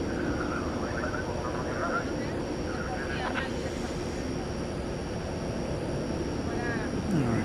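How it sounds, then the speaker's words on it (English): An Iberia airliner takes off from runway 18 right at DFW Airport at night, a steady broad jet roar that holds throughout at moderate distance while someone talks over it. "we just saw Iberia take off from 18 right"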